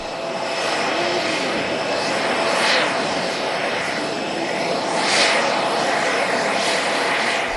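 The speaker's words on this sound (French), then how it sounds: "La famille Obama arpente les marches d'Air Force One." Aircraft engine noise of Air Force One on an airport apron, a steady, loud, broadband roar holding through the whole stretch with slight swells, with no talk.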